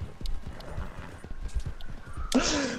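Horse hooves beat in a fast gallop, close and moderately loud, in Red Dead Redemption 2, and a neigh or whinny breaks in near the end.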